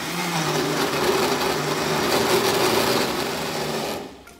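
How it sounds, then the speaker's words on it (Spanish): A blender whirs loudly and steadily while chopping tomato and chili ingredients for taco salsa in batches, a continuous motor whine that runs alone before winding down abruptly at the end. "Para no exigir a la licuadora."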